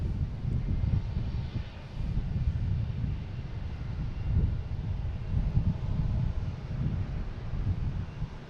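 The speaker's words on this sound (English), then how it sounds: "And we have Southwest heading to Austin. Boston to Austin. Flight number 696, a 737 MAX 8." A Southwest Boeing 737 MAX 8 jet departs Boston Logan, its engines a steady, loud low roar with wind buffeting throughout, no voices.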